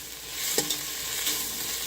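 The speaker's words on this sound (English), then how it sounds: "After a minute of stirring, mixing the ginger garlic paste" Ginger garlic paste frying in a pan over a high-to-medium flame gives a steady, soft sizzle, broken by a couple of quick spatula scrapes as it is stirred.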